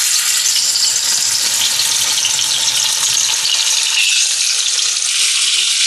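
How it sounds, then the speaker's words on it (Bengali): Koi fish fry lightly in hot oil in a pan, a loud steady close sizzle and hiss with no pauses and no voices. "মাছগুলি হালকা ভেজে নিব, তার জন্য চুলায় প্যান বসে একটু তেল দিয়ে দিব"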